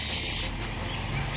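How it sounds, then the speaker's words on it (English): An Atmosphere Aerosol fog spray can lets out a short, close, loud hiss of spray that stops abruptly, leaving faint background noise. "I'm going to be using Atmosphere Aerosol."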